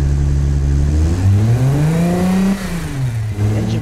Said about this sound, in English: The engine feels so lazy when you rev it.